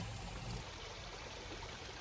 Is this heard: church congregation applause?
no